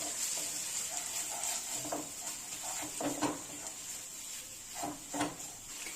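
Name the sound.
frying and stirring ground spices in a pan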